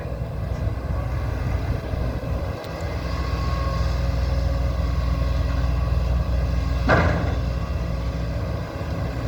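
Engine of a Kobelco SK140-8 long-boom excavator working an old canal bank, a steady low drone with a brief louder swell near the end, close and continuous with no voices.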